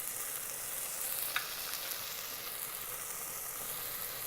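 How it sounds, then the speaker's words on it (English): Ground masala of fennel, cumin, coriander and turmeric powders frying in an Instant Pot for shrimp curry, giving a steady, close sizzling hiss with a faint stirring scrape, no voices. "Let's fry this for 1 minute."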